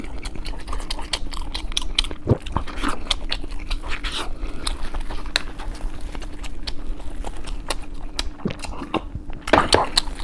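Biting and chewing on an Old Beijing chicken leg roll filled with fried chicken pieces and corn kernels, giving close crunchy bites and wet chewing in irregular bursts over a low steady background hum.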